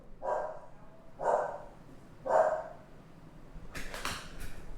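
A dog barks three times in a steady rhythm, fairly close and loud, followed by a burst of sharper noisy sounds.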